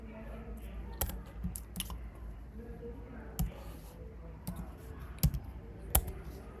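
Keys click sparsely on a computer keyboard while code is typed, scattered sharp taps with pauses between them over a low, quiet room hum.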